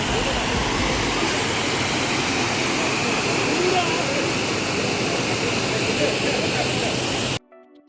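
Periyakanal waterfall near Munnar roars as a dense, continuous rush of falling water, loud and unbroken, before it cuts off abruptly near the end.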